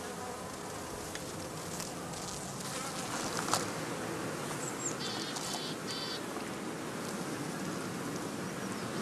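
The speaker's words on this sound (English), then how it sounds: "This allows the bees, as soon as they have arrived at the new site, to set out on their first orientation flight." Honey bees swarming out of a heather skep at an apiary on their first orientation flight, a dense continuous buzzing hum that holds steady and close throughout, with individual bees droning past.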